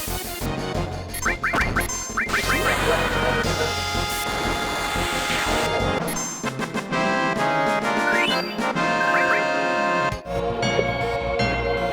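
A bird creature in Final Fantasy VII gives repeated, duck-like quacks over loud, busy game music, with the calls standing out in short bursts across the battle.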